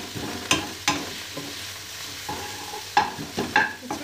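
Spaghetti being stir-fried in teriyaki sauce, with a steady sizzle beneath several sharp utensil scrapes and clacks against the pan, spaced irregularly through the stretch.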